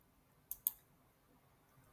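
A computer mouse clicks in a file manager: two quick sharp clicks close together, then one more after a pause, faint against near silence.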